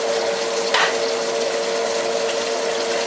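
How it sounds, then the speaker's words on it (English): Eggs fry in a scorching hot frying pan with a dense, steady sizzle close up, plus a brief clatter early on, and no talk. "throw the eggs into the frying pan here"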